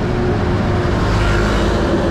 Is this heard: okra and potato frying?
no